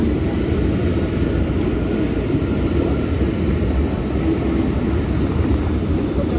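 Inside Hamburg Hauptbahnhof, an S-Bahn train produces a loud, steady rumble that fills the station for several seconds without pause or voices.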